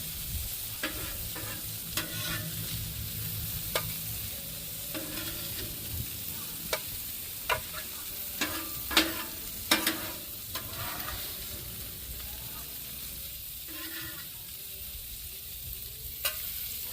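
Onions and peppers fry in a pan for a sausage sandwich, a steady low sizzle running throughout with scattered sharp clicks and scraping stirs, fairly quiet and close with no talking.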